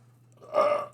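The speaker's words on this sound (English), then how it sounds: "beer burp" A single beer burp, rising around mid-clip and lasting about half a second, fairly loud and close over a low steady hum, with no talk.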